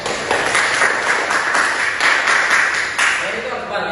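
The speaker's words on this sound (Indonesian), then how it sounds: "Berikan tepuk tangan untuk Ariel." Students in a classroom clap for a classmate, a dense burst of applause mixed with chatter and voices that runs throughout.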